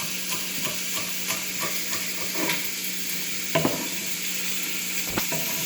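Vegetables for chicken soup cook in a pot, giving a soft, steady simmering hiss with scattered light clinks and taps of utensils against cookware, no voices.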